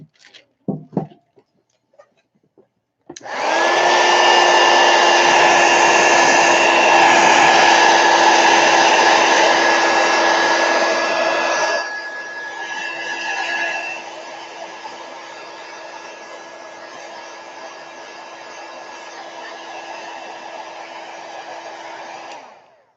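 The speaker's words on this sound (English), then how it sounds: "let me hit this with the heat gun real quick" A heat gun blows loudly and steadily up close with a constant whine over a whooshing airflow, dropping to a lower setting partway through and running on until it cuts off.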